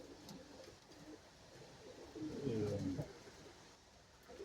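Pigeons coo softly in a breeding loft, one nearer bird giving a short low call among faint background coos and rustling.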